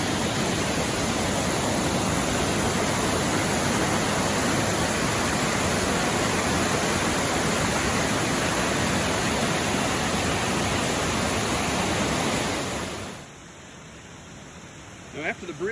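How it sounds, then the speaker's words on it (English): Smith Creek rushes below a waterfall in a loud, dense, continuous broadband roar that drops away sharply near the end, leaving quieter ambience with faint voices. "Here's our first look at Smith Creek, which is formed by the falls up top."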